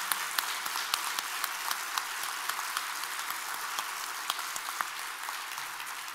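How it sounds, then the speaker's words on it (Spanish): Sustained applause from an audience in a hall, many hands clapping at a moderate distance, steady throughout with a few sharper claps standing out. "pido un fuerte aplauso"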